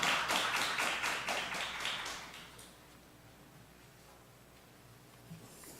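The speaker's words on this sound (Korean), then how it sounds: "박수로 맞이해주시기 바랍니다." An audience in a Methodist seminary lecture applauds to welcome a speaker, a brisk burst of clapping that starts fairly loud and fades away over about three seconds, leaving quiet room tone.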